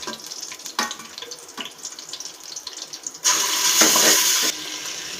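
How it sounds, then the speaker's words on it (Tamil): Water pours into a cooking pot while white kuska rice is being made. Quiet clinks come first, then a loud, close rush of pouring water lasts about a second and a half before easing back. "இப்போ நம்ம தண்ணி ஆட் பண்ணிக்கலாம்"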